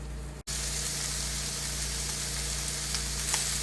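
Cutthroat trout and sausage sizzle steadily in a pan inside a camping trailer, a loud continuous frying hiss broken by one brief dropout near the start.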